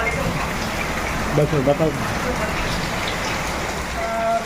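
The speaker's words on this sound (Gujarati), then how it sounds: "અત્યારે બરોબર વરસાદ ચાલુ થઈ ગયો છે" Steady rain falls in a village setting, a dense continuous patter close around, with people talking briefly over it.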